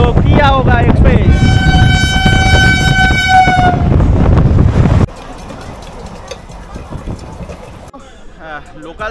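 A local train running from Howrah to Digha sounds a loud, sustained horn for about three seconds over heavy rail rumble, then quieter rattling and clatter of the moving carriages continues.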